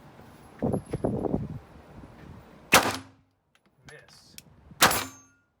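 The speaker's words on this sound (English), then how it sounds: "let's go ring steel with it." Archon Type B pistol shots crack loudly at an outdoor range, two sharp reports a couple of seconds apart, each followed by a faint ring from steel targets, with talking before the first shot.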